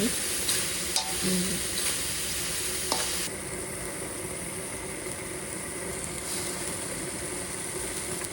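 Mushrooms stir-fried with oyster sauce sizzle in a pan, with a continuous crackling hiss and a few sharp spatula knocks early on, the frying easing slightly after a few seconds.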